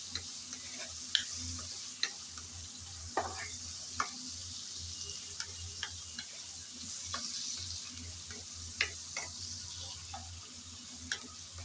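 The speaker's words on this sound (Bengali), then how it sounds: "এখন লবণ আর হলুদ দিয়ে চিংড়ি নেড়ে চেড়ে ভেজে নিতে হবে।" Shrimp fry in oil with salt and turmeric while being stirred: a continuous soft sizzle, close and even, with light regular ticks and taps from the stirring spoon scattered throughout, no voices.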